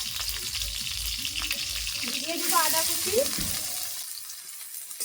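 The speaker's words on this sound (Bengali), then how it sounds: "কড়াইয়ের মধ্যে দিয়ে দেবো সরিষার তেল তেল গরম হয়ে গেছে তেলের মধ্যে দিয়ে দেবো দুটো তেলে কাঁচা লঙ্কা" Mustard oil sizzles steadily in a pan, with a brief louder crackle as two green chillies are added partway through, then a constant hiss.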